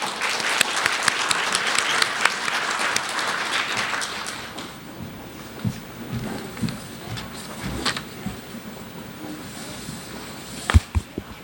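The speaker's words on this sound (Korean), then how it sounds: "오늘 강의를 해주실 최지혜 강사님을 뜨거운 박수로 맞아주시기 바랍니다." Warm applause from a lecture audience welcoming a trend-analysis lecturer, dense clapping that fills the room for about four seconds and then thins into scattered claps and light shuffling.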